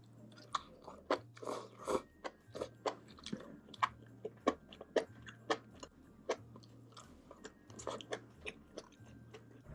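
Close, crisp crunching of someone chewing crunchy bean sprouts with spicy sauce, a steady rhythm of sharp bites over about ten seconds, quiet and intimate with no talk.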